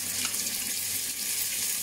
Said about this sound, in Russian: тут в этом же казане поджарим 2 ложки на мою порцию, 2 ложки томата, тоже на растительном масле.